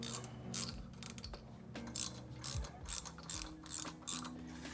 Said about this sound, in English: finish tightening that with a 1/2-inch wrench or socket